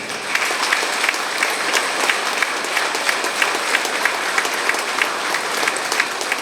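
An audience at a student honouring ceremony applauds the dignitaries on stage. The clapping is sustained and even from a sizeable crowd, filling the whole stretch without letting up.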